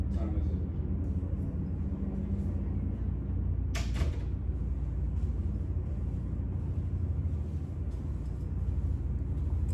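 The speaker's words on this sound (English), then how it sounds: "Let me close the door." A door closing in an office: one sharp knock-like impact near the four-second mark, with a short follow-up, over a steady low rumble of room noise.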